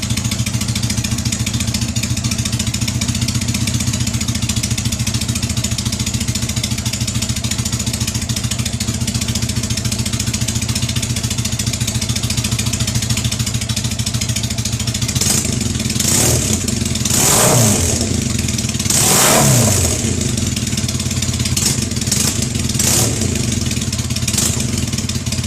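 A Triumph Bonneville motorcycle engine idles steadily up close, then is revved several times in sharp bursts that rise and fall before settling back to idle.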